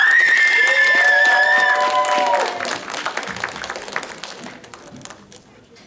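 Audience at a cosplay contest clapping and cheering loudly, layered under a held musical tone and voices at first, then the applause thins into scattered claps as it fades.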